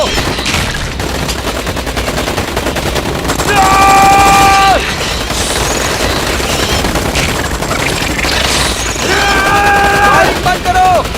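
Rapid, continuous machine gun fire in a monster-fighting battle scene forms a loud, dense rattle throughout, with shouted voices over it and brief high whining tones.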